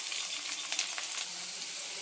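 Chopped snake gourd hisses as it fries with onions in a pan, a steady, close, bright sizzle with faint stirring scrapes.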